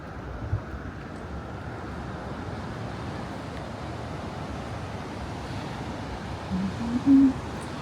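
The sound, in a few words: ocean waves at Blue Mountain Beach, Florida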